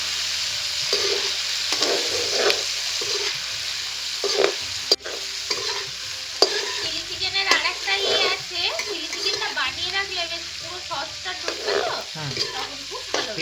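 Chicken pieces shallow frying in oil in a kadai for dry chilli chicken: a continuous close crackling sizzle with repeated stirring and scraping and a couple of sharp knocks, with faint voices in the background.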